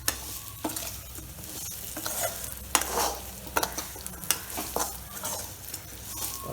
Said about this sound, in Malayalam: എന്നിട്ട് നന്നായിട്ട് മിക്സ് ചെയ്യുക.